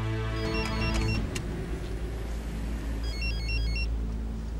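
A mobile phone rings inside a car, playing a repeating electronic melody in two bursts separated by a short pause, with a low engine and road rumble underneath.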